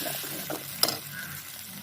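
Ground tomatoes and onions simmer and fry together in a pan for an egg curry, giving a soft, steady sizzle with one sharp clink of a utensil partway through, close and quiet, with no talking.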